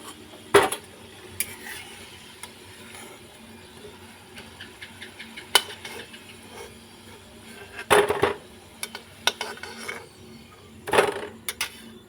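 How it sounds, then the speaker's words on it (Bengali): Fried sweet potato rosbora stuffed with coconut are lifted from a pan one at a time, giving a few sharp metallic clinks and scrapes over a faint steady sizzle, with no voices. "এখানে আমি একটা একটা করে তুলে নিচ্ছি।"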